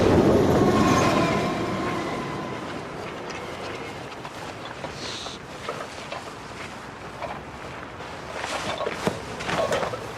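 A train rolls past on the tracks, a steady rumbling roar with rhythmic clatter and occasional metallic squeals, gradually building again toward the end.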